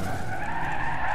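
A car skidding in the driving game BeamNG.drive, a loud continuous tire-scraping screech that holds steady throughout, with no talk.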